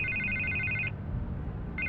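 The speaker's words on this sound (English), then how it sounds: "I can't get the phone to stop ringing." Telephone ringing in the Batman: The Telltale Series video game, two electronic ring bursts separated by a short pause, steady and clear over a low background hum with no talking.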